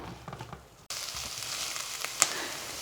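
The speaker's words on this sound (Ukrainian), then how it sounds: "додаємо цибулю. Підсмажуємо її тут." Soft sizzling and crackling of onion frying in oil in a pan, steady and close, after a brief quieter moment.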